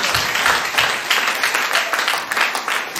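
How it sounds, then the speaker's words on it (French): Church congregation applauding during a Sunday worship service, a dense burst of clapping that stays loud and close throughout, with faint voices mixed underneath. "Acclame Jésus."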